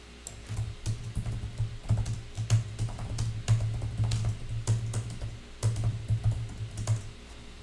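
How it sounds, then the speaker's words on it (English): Rapid keystrokes clatter on a computer keyboard in uneven bursts, close and clear, with a low hum beneath and no talking. "I didn't mean to give a typing lesson"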